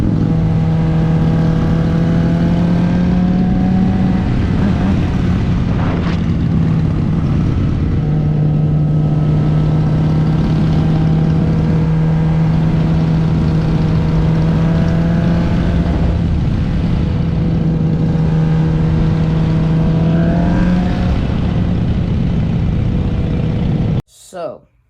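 Motorcycles ride along a road, a steady engine drone with rising and falling pitch as riders shift and accelerate, wind rushing throughout, heard continuously at close range.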